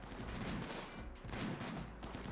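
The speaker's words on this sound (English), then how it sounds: "And of course, lots of gunfire going off." Faint, distant gunfire in the game RimWorld crackling in dense volleys, a steady rumble of shots with no talking.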